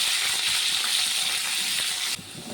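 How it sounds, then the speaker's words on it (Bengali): Potatoes frying in oil in a wok give a short burst of loud, hissing sizzle that drops slightly in level just before it ends. No voices are present. "আলুটাকে সুন্দর করে ভেজে নেব"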